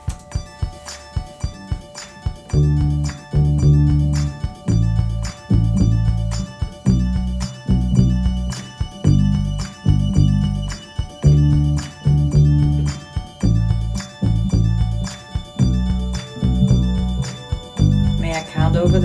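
Bass guitar line for a song mixing dotted quarter notes and eighth notes, a steady repeating pulse of deep plucked notes heard clearly and alone.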